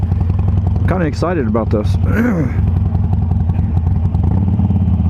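Harley-Davidson Sportster Roadster engine idling steadily up close, a loud continuous low rumble running throughout while someone talks over it.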